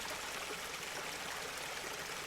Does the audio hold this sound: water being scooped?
yes